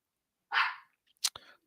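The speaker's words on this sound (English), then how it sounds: "And the dog starts barking." A dog gives a single short bark, then a couple of quicker, fainter yelps follow after a brief pause, heard close by in an otherwise quiet room.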